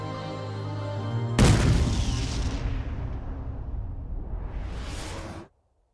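Bomb explosions in the Metal Gear Solid V video game: a heavy booming blast bursts in sharply after a low rumbling lead-in, then rolls and decays over several seconds with a whooshing tail before cutting to silence.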